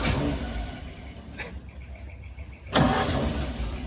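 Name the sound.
classic car engine starting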